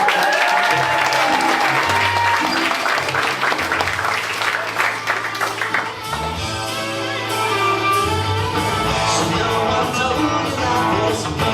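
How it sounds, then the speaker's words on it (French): Loud, sustained applause from a large crowd, with music playing underneath throughout. "Sous vos applaudissements."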